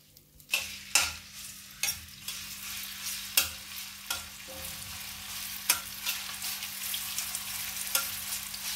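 Chicken sizzling in hot oil, with crackling bursts and occasional scrapes from stirring, close and steady, no talking.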